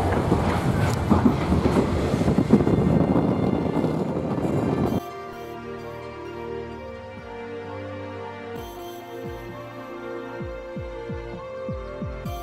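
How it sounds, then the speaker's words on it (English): A train runs on rails at a Cape Town station, a loud, dense rumble for the first few seconds. Quieter rhythmic clicks of wheels over rail joints follow. "so these are the trains. Not in a very good condition."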